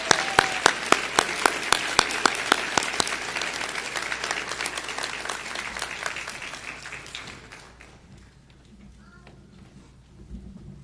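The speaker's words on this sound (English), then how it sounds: "Let's give your families a round of applause" Audience applause at a physician assistant white coat ceremony: dense, loud clapping from a large crowd that tapers off and fades into quiet room tone, with a brief swell of claps returning near the end.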